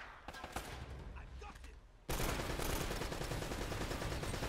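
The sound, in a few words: enemy gunfire from a video game, Uncharted: Drake's Fortune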